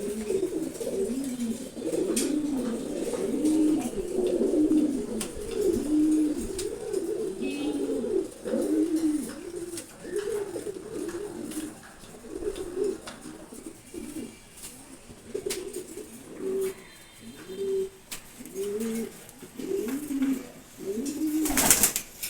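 Pigeons coo steadily and close, a continuous overlapping chorus of low rolling calls with a faint hiss behind and an occasional wing flutter.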